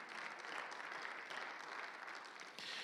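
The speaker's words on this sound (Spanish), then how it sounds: "Dale más fuerte ese aplauso" Applause from a church congregation during a sermon, a dense steady wash of many hands clapping that fills the whole stretch at even strength, with no voices rising above it.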